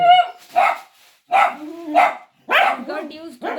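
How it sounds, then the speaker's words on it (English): Dachshunds bark close to an unbothered bird (a malkoha), giving several short, loud barks and yips in separate bursts with brief pauses between them. "He got used to these doggies barking at it from a very close distance."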